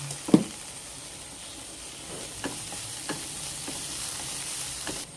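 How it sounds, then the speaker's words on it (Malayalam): Spice masala of chilli powder, turmeric and pepper frying in a pan for an egg omelette masala, stirred steadily: a continuous close sizzle with a sharp scrape at the start and a few light spoon clicks. "മസാലയൊക്കെ മൂക്കുന്നവരെ നന്നായിട്ട് ഇളക്കി കൊടുക്കാം."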